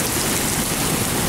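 Heavy rain pours during a thunderstorm in Waukesha, a dense, steady hiss of water filling the short stretch with no voices.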